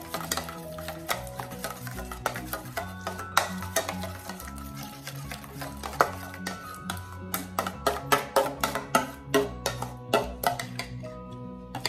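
A spoon stirs honey walnut sauce made with condensed milk and a squeeze of lemon in a bowl, giving a steady run of soft scraping with sharp clinks against the bowl that grow quicker toward the end.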